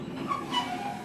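An ÖBB 'Blauer Blitz' train on a heritage excursion run in Burgenland, Austria, rolls along with a steady, close rumble and a faint metallic whine over about a second.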